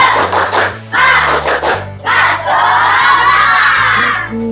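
Classroom of schoolchildren performing a tepuk semangat clapping chant, many young voices shouting in rhythmic bursts with claps, loud and close, continuing as a steady group chant.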